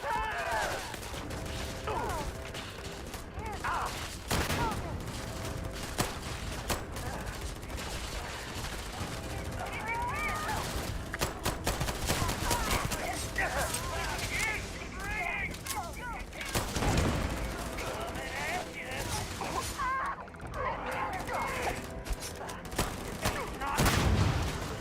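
Rapid gunfire in the Starfield video game, sustained bursts of shots with booming impacts running throughout, loud and close, with a player's voice talking at times over the firing.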